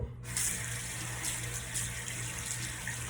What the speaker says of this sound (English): as I'm rinsing my hands, I see the makeup running in the sink